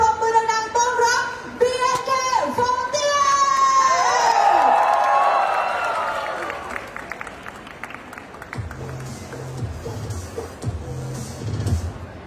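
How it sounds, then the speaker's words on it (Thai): A crowd claps and cheers to welcome performers at a Toyota Big Motor Sale event, loud swelling applause with shouts rising over fading music, then thinning into scattered voices. "ขอเสียงปรบมือดังๆต้อนรับ"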